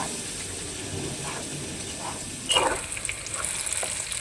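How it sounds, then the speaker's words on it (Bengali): Onions being lightly fried and stirred in oil, a low sizzle with occasional spatula scrapes, rising into a louder, livelier crackle partway through, heard up close. "পেঁয়াজটাকে তেলের সঙ্গে একটু নাড়িয়ে নেব খুব একটা লাল লাল করে ভাজবো না হালকা ভেজে নেব"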